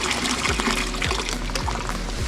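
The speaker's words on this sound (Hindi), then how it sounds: "नल को करते हैं बंद" Water runs steadily from a tap at a snowy hill home in Uttarakhand, a fairly loud continuous splashing rush with a few dull low knocks underneath and no voices.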